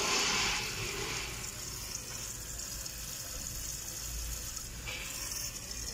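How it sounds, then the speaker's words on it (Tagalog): Hand oil pump pushing fresh oil into a Mitsubishi engine during service, a steady liquid gurgle and wash that runs throughout at moderate, close level, with no talk. "Ito, gamit natin tong oil pump"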